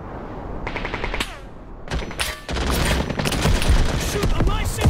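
Dense automatic gunfire in the war game Call to Arms, loud continuous volleys of rapid shots with a brief lull, while voices shout faintly underneath.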